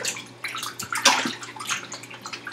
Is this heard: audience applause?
no